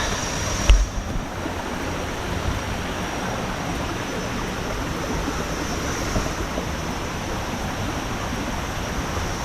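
Krathing Falls, a tall multi-tiered waterfall in Chanthaburi running with heavy water, roars as a steady, loud, broadband rush that fills the whole scene without pause; one brief thump sounds near the start.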